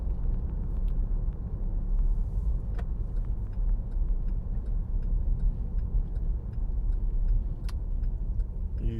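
Steady road noise inside a car travelling about 40 mph, a constant low rumble and hum with faint ticks, no talk.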